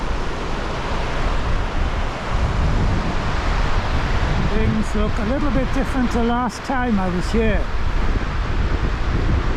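Steady rushing water and wind noise from water pouring over the Claerwen and Craig Goch dams in the Elan Valley fill the background while someone speaks over it near the microphone.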